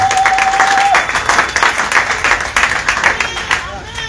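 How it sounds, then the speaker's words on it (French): A church congregation breaks into loud, sustained clapping and cheering for the Lord, a dense wash of many hands filling the room, with a brief steady tone at the start and voices mixed into the applause. "Est-ce qu'on peut acclamer très fort pour le Seigneur?"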